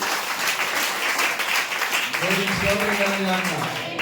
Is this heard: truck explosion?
no